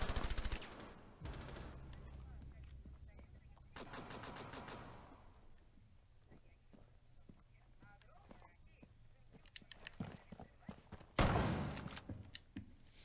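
Gunfire in the tactical shooter Rainbow Six Siege: a few loud, sharp bursts stand apart early, midway and near the end, with quieter footsteps and movement scuffing through the gaps.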